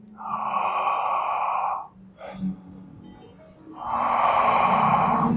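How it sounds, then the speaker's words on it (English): Two long, deep breaths taken slowly and close up, each a broad airy rush lasting a couple of seconds, with a short soft intake between them. "we go back to long and deep breaths"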